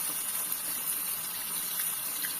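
Water runs from a tap fed by a gas water heater, a soft, steady hiss of flow at low volume with no other sounds.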